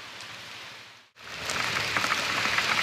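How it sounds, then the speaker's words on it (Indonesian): Heavy rain pours down steadily in a dense, close hiss, cutting out briefly before returning even louder and fuller, with no one talking. "Hujannya."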